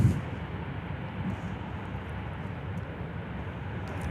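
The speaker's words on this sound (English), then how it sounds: "There's Velocity taxiing out on Whiskey today" A Velocity 467 airliner taxiing out at Perth airport makes a steady, distant low engine rumble that holds evenly throughout with no voices.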